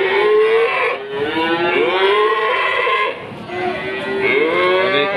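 Simmental cattle, one weighing 570 kg, moo repeatedly at a livestock market in long, wavering, drawn-out calls that overlap one another, loud and close, with no talking.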